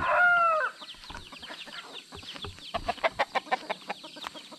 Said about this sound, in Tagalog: kunting manok.